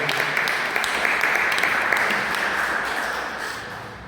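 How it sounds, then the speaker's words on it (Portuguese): A church congregation at a Portuguese-language service breaks into sustained applause, a dense, loud wash of clapping that fades slightly toward the end. "você possa aplaudir ao Senhor"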